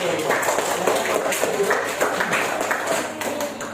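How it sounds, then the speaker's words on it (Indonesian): A classroom gives a student group a round of applause: dense, close clapping from many children, steady for a few seconds, with some voices mixed in. "tepuk tangan untuk kelompok"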